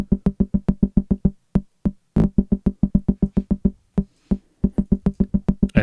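Short plucked bursts from a 2002 MicroKorg arpeggio with the transient setting turned very low, leaving only the attack of each note; quick repeated clicks in uneven groups, broken by a few pauses and one brief noisy burst, with no talking.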